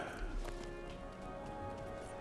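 Horse hooves clip-clop faintly in a rhythmic trot in the Lord of the Rings Online video game, with a voice talking over the game audio.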